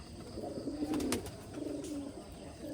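Rajshahi Giribaj pigeons coo in a low, rolling burble at their loft, a few overlapping calls rising and fading at moderate distance with steady background noise and no talk.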